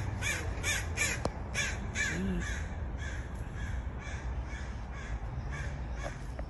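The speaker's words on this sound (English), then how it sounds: "crows welcoming us" Crows caw repeatedly in a park in Hollywood Heights, a loose series of harsh calls, some close and some farther off, over quiet outdoor ambience with no talking.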